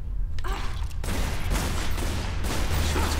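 Gunfire erupts in the video game Tomb Raider: Underworld as a dense, continuous barrage of loud booming shots and blasts over a heavy low rumble, with no clear gaps.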